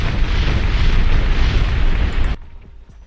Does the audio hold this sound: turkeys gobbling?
no